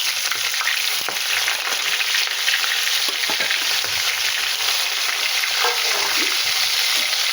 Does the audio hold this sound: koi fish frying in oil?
yes